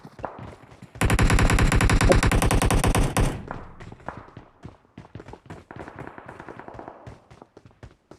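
M16A4 rifle fire in a mobile shooter video game: a loud sustained automatic burst of about two seconds, followed by quieter scattered shots and clicks.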